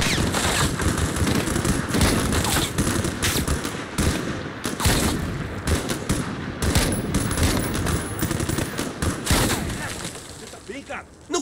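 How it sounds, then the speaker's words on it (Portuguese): Dense, continuous automatic gunfire fills a firefight in Call of Duty: Modern Warfare (2019), with rapid bursts and loud overlapping shots throughout, while voices talk over the shooting. "Não consigo ver de onde estão atirando."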